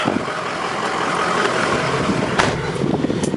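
A 2004 Ford F250 Lariat FX4 engine runs cold at idle, giving a steady, moderately loud low rumble with a few brief higher clatters and no talking.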